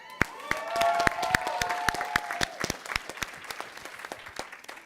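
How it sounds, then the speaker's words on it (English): Applause for a mother seated at the back of a rising-star panel discussion at a conference, with sharp individual claps and cheering voices at first, then thinning to scattered claps as it fades. "Can we give a round of applause for Mom in the back?"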